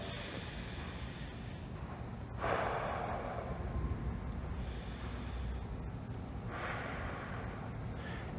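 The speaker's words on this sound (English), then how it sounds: "taking my breaths" Slow, deep breaths during pelvic floor relaxation, two long soft airy inhalations or exhalations rising over a faint background hiss, quiet and close.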